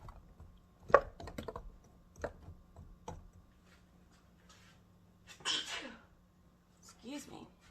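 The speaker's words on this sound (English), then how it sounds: "I've been sneezing" A woman with allergies sneezes once sharply in a quiet kitchen, followed by a few throat-clearing and small handling noises and short bursts of her own voice afterward.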